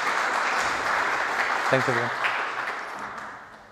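Audience applause for a speaker at a coreboot firmware conference talk, a steady broadband clatter of clapping that fades toward the end, with a brief spoken thanks over it.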